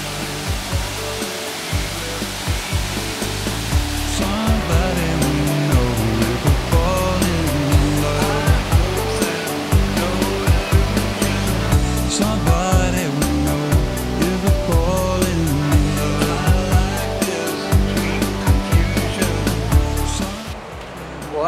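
Waterfall at a bathing resort in Mato Grosso do Sul running strong after rain, a loud, close, continuous roar of rushing water with uneven low knocks and bumps throughout.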